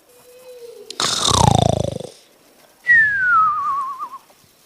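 A voice imitates snoring: a long, rough, rattling inhale followed by a high, falling whistled exhale ending in a wavering trill, loud and close, with no other sound.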